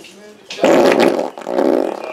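A man lets out a loud, drawn-out fart outdoors. The sound is close, low and rasping, broken by a short pause partway through.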